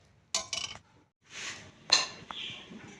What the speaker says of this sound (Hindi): हमने इनको एक प्लेट में डिश आउट कर लिया है।